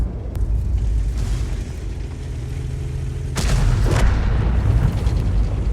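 Single heavy tank cannon shot in a tank video game, a sharp loud boom cutting through steady engine rumble, followed by a lingering rolling tail, no talk.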